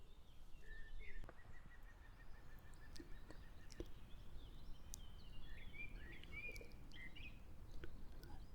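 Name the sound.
birds chirping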